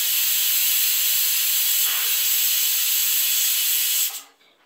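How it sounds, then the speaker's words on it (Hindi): A pressure cooker on a high gas flame, cooking rice with Bihari-style chicken, lets off a loud, steady, high hissing whistle of escaping steam that cuts off abruptly near the end, leaving quiet. "कुकर में 1 सीटी लग गई है"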